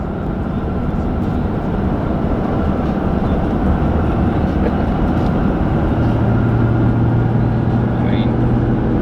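A crew cab 7.3 Lightning truck, an F-450 towing a trailer, rolls down the road at speed, giving a constant loud rumble of engine and road noise, with people talking inside the cab.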